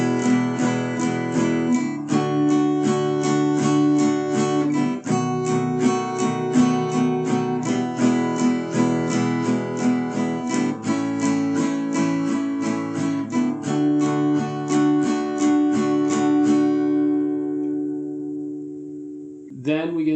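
Acoustic guitar strummed in a steady down-up pattern through a chord progression, bright chords ringing with regular rhythmic strokes, played alone and fading out near the end.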